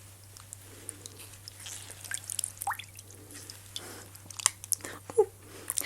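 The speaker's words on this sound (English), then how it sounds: "Ooh, had a little splash." Small water splashes and drips during a soft-spoken personal-attention hydration and moisturizing session, scattered light droplet ticks and a brief splash close to the microphone over a quiet hum.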